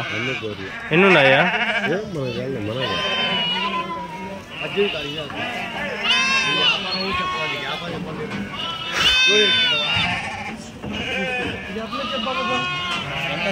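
Sheep and rams at a Tuesday livestock market in Kadiri bleat several times, loud and close, amid steady crowd chatter and people talking nearby.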